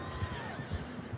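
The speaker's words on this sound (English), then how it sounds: "Ugh, what happened to that horse?" Horse whinny in the Red Dead Redemption 2 video game, a brief, moderately loud neigh with no talking over it.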